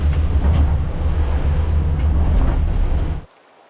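Big waves slam over the bow of a small boat in rough weather at sea, a loud continuous rushing and crashing wash mixed with wind buffeting, steady for three seconds before dropping away suddenly.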